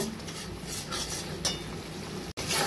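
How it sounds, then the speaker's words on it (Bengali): Masala spice paste frying in oil over a high gas flame, a steady close sizzle with soft spoon scraping and stirring throughout, ending with a brief cut. "এবার আমি গ্যাসটা জোর দিয়ে একটু ভালো করে কষিয়ে নেব।"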